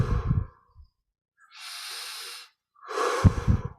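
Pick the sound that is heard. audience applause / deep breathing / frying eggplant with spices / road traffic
deep breathing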